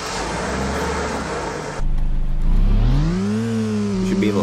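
A race car engine in a video game revs at the start of a race, a steady loud drone that jumps in volume, then climbs in rising whines as the car accelerates.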